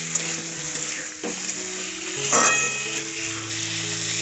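Fried cauliflower and potatoes being sautéed with spices in a pan: a steady, moderate frying sizzle with occasional stirring scrapes, all fairly close.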